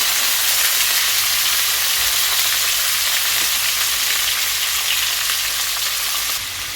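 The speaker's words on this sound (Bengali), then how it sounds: "এটাকে আমি এবার সুন্দর করে একটু ভাজা করে নেব" Onion, potato, papaya and chickpeas fry in a hot pan, giving a steady, loud, even sizzle and hiss with no one speaking.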